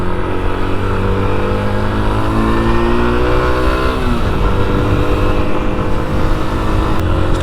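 Yamaha YBR 125 motorcycle pulling away from a standstill with the clutch slipping, a steady loud engine drone whose pitch sweeps and wavers around the midpoint as it takes up drive, no talk.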